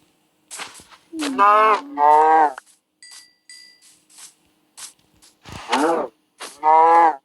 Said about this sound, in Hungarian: Még több tehén, meg bárány.